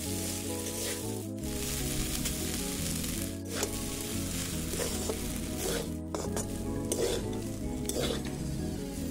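Fried rice is stirred and fried in a pan with a continuous sizzle and repeated scraping and clinking of the utensil against the pan, while music plays throughout.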